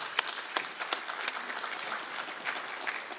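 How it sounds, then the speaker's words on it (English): An audience at a nurses' gathering applauds, a dense, steady patter of many hands clapping with a few sharper individual claps standing out. "I think we can give a round of applause for the folks that spoke on that."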